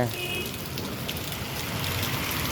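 Gentle rain falls steadily in a soft, continuous hiss and patter that stays even throughout.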